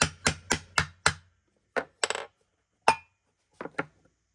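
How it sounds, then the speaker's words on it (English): An awl driven by a hammer to punch a hole in a tin can for a homemade steam engine, heard as a quick run of five sharp metallic taps, then several more spaced, ringing strikes, close and alone. "make the hole with an awl and a hammer"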